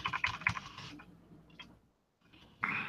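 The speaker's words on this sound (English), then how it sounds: "As soon as I got this new keyboard, I found myself immediately typing faster." Quick, crisp clicks from a new mechanical computer keyboard being typed on up close, in bursts with a short pause before a louder flurry at the end.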